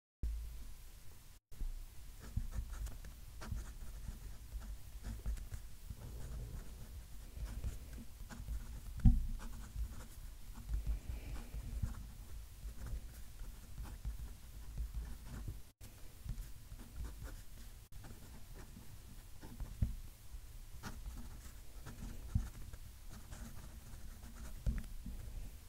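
Close-miked scratching of a Pilot Custom 823 fountain pen with Robert Oster Cafe Crema ink writing on off-white Ayush paper, an irregular stream of strokes and small taps over about twenty-five seconds with no talking.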